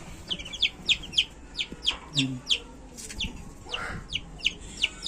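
Newly hatched chicks from a homemade incubator peep in rapid, regular high-pitched cheeps, near and clear, with a few soft lower sounds between.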